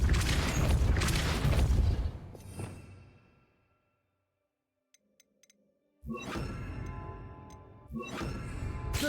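Depulso spell cast in the video game Hogwarts Legacy, a loud whooshing boom that fades into silence, followed after a pause by a few faint clicks and then more heavy magical blasts.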